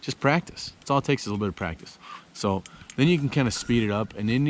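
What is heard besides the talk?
No everyday noises stand out.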